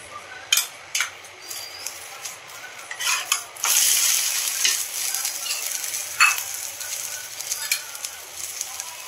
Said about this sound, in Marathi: त्यानंतर दोन्ही बाजूने आपल्याला चांगले तूप किंवा तेल लावून खरपूस असं भाजून घ्यायचं आहे।